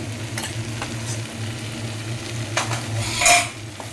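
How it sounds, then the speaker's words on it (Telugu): Cucumber and tomato curry with spices being stirred in a pan, a low steady sizzle with soft scraping strokes and a brighter clink of the spoon near the end. "ఇలా అప్పుడప్పుడు కలుపుతూ ఉండాలి"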